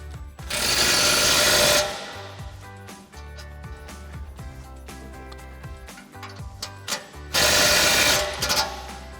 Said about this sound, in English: put our 16mm socket on our impact and run this down and separate our tie rod end from our knuckle